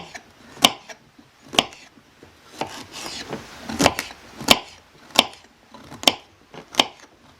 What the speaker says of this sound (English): And celery. I'm going to cut them a little bit smaller.